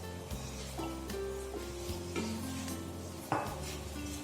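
Vegetables being stirred in a pan, with a utensil scraping and clinking against the metal in irregular strokes over a soft sizzle, close up and fairly quiet, with one sharper knock near the end.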